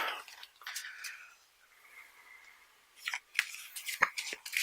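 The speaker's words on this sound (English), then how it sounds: "I'm going to do these quick side shuffles." Quick side shuffles of a regular deck of playing cards during a board game session, heard as several short bursts of crisp riffling card noise with quieter pauses between.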